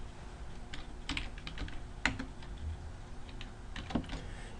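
Numbers tapped out on a computer keyboard, a quick run of light clicking keystrokes with one or two firmer presses, close and quiet over a faint steady background hiss.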